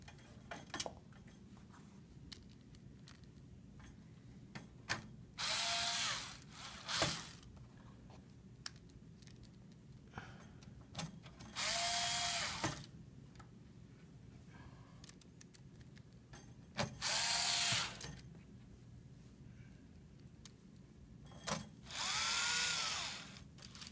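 Small Phillips screws driven into XLR connectors with a power screwdriver on a RADAR audio core kit: several short bursts of whirring, each a second or two long, separated by quiet pauses and light handling clicks, with no talking.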